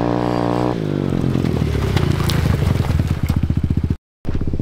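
A 110 CRF motorcycle accelerates away close by, its engine note climbing in loud, rapid pulses through the gears. The sound cuts out briefly near the end.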